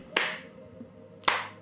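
Two sharp hand claps about a second apart, close and fairly faint in a quiet room, with no voices.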